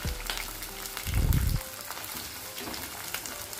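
Capsicum and green beans frying in a pan for vegetable fried rice, a steady soft sizzle with a louder burst of crackling and stirring about a second in, then settling back to a low hiss.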